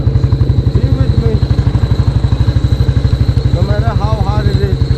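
A KTM RC motorcycle engine on a road trip throbs in a steady, fast, loud rhythm of pulses from close by, with a voice speaking over it.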